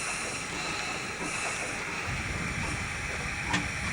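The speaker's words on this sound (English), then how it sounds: "Fairly quiet, the old steam machine, wasn't it?" A very old restored steam engine drives an old gold stamper at Pine Creek in Australia's Northern Territory, giving a steady hissing, chugging mechanical rumble with faint rhythmic knocks and a sharp clack near the end.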